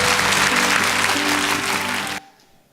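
A church congregation applauds steadily during a Sunday morning service, dense clapping for about two seconds before it stops abruptly, leaving a faint quiet tail.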